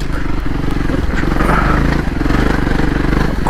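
A Voge 300 Rally motorcycle engine lugs at low revs on a gentle road and trail ride, a loud, steady, close throbbing drone that runs throughout with an even pulsing rhythm.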